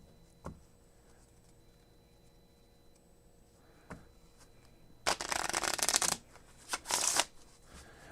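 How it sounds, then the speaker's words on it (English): Playing cards being shuffled, a few soft taps and handling sounds early on, then two loud riffling bursts close up in quiet surroundings. "I'm just shuffling these cards"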